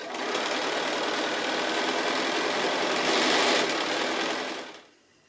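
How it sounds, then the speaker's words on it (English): A sewing machine stitches a straight seam on a small fabric drawstring bag, running in a fast continuous whirring buzz up close before stopping abruptly near the end. "it's just really a matter of stitching regular seam allowance all the way along"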